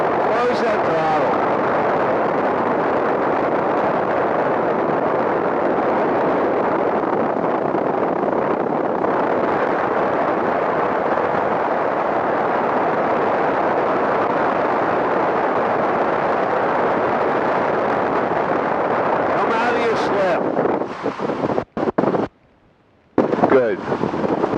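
A small airplane engine runs steadily at throttle in the cockpit, a loud, continuous broadband drone with wind buffeting, then drops off abruptly near the end as the throttle closes.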